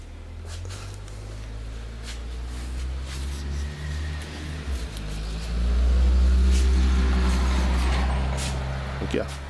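Truck engine rumbling and accelerating nearby, a deep steady drone that swells louder midway, with faint brake hiss and brief clicks on top.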